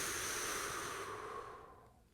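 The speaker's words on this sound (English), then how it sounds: "So let's release that, breathing in and out." A slow, audible breath during a meditation exercise, a long soft airy exhale that steadily fades away into quiet, close and unaccompanied by any talk.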